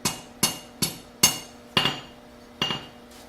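A rounding hammer strikes hot steel at a forge in seven sharp, ringing blows spaced about half a second apart, each clang decaying quickly, with a brief pause before the last two.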